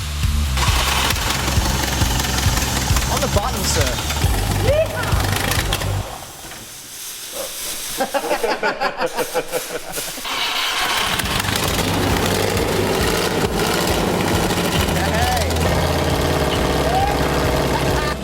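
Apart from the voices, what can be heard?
engine firing up to prime hydraulics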